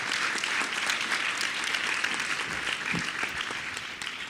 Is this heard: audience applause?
yes